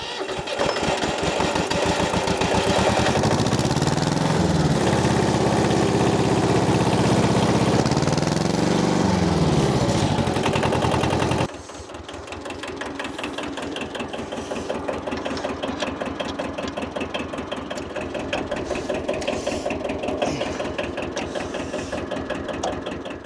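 An old 51-year-old tractor engine runs loud and close, its pitch rising and falling as the throttle is worked, then settling into a steadier, quieter chugging idle for the second half.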